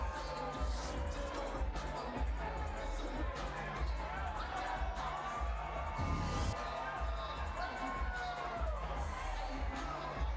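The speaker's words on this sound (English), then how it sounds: "A lively crowd here in the Motor City." A lively arena crowd at a women's boxing match in Detroit cheers and shouts steadily throughout, with a commentator talking over the continuous roar.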